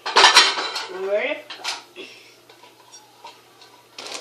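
A metal frying pan is handled while making Pullman bread on a griddle, giving a few sharp clanks and scrapes at the start, then lighter taps that fade to quiet.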